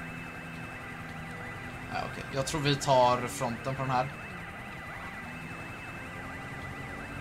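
In the GTA video game, a police car siren wails steadily in the background throughout, while someone speaks briefly over it.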